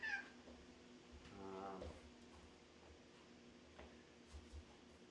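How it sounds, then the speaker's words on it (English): A pet cat at someone's feet gives one drawn-out meow in the middle of a quiet room, faint and close, with small clicks and soft thumps around it. "We got a cat here"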